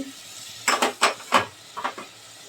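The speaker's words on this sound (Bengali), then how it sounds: "এখন মশলাটা ভালো করে কষায় নেব" Garlic, ginger, mustard paste and cumin masala frying in a pan, with a run of loud spoon-against-pan scrapes and stirs over a soft background sizzle, then two lighter strokes.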